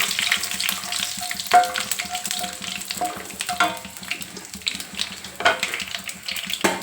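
Mustard and cumin seeds frying in hot oil, a loud crackling sizzle with sharp spattering pops and a few louder bursts, close up and continuous, with some clinking of a utensil.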